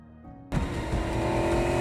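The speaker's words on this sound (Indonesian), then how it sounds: "Ia mengikuti mobil Willa dan menabraknya dari belakang." A car chases another and rams it from behind in a TV drama scene, an engine suddenly bursting into loud revving after a brief quiet hum and holding at high intensity.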